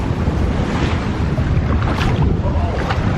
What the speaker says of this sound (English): I gotta put this camera away or I'm gonna fall down from these waves